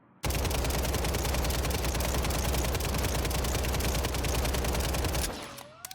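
A sustained burst of automatic gunfire from a starter-loadout weapon in Warzone on Rebirth Island, a dense, loud, rapid stream of shots lasting about five seconds before cutting off, followed by a faint trailing tone.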